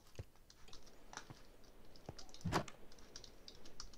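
Soft, irregular key clicks and taps on a computer keyboard as a cat walks across it, with one louder thump midway.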